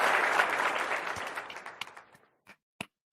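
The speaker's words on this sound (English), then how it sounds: "Cub fan Steve, you get a little bit of an applause here." A burst of applause from a small audience, loud at first and thinning out over a couple of seconds, ending in a few scattered last claps.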